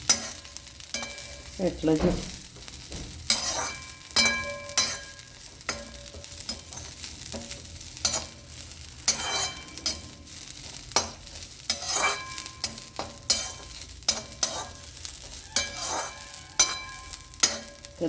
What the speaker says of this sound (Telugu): చూడండి, ఇలా వేయించుకోవాలి.